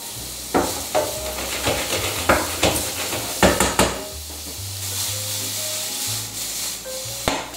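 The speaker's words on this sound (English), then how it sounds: "we saute the wild mushrooms" Wild mushrooms sauté in hot Spanish olive oil in a pan, a steady sizzle broken by repeated close scraping and stirring strokes, with no talking.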